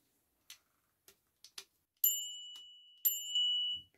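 A small bicycle bell is handled with a few light clicks and taps, then struck twice, each ring a bright metallic ding that lingers and fades, close and quiet.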